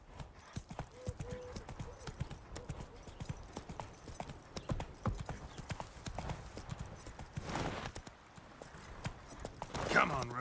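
A horse gallops in The Witcher 3, a rapid clip-clop of hooves keeping a steady rhythm close by, with a short snort or whinny near the end and some speech over it.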